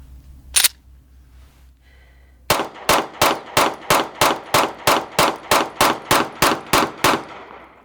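A Taurus G3 pistol fires a full magazine of hollow-point rounds, about fourteen sharp, loud shots in a fast, steady rhythm, each ringing briefly, with a faint metallic clink just before the string begins.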